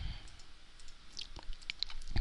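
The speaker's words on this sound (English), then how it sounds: "I'm just going to continue clicking." Computer mouse clicks while stippling a design in embroidery software: a few sharp, faint clicks scattered irregularly over quiet room noise.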